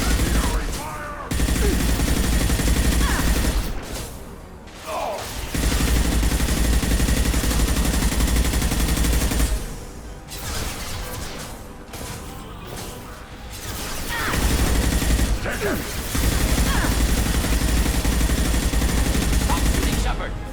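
Incendiary gunfire in the video game Mass Effect 2: long loud stretches of rapid automatic fire broken by short pauses, close and intense, with combat voices calling out between bursts.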